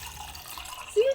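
Cold drinking water begins running from a tap inside an Airstream trailer during an arctic cold snap, a short splash rising near the end after a quiet, low hum.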